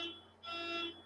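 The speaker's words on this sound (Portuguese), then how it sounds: "o alarme do carro aqui estourou" A parked car's alarm sounds nearby, a steady high-pitched electronic tone that dips briefly and then resumes, faint and heard alone.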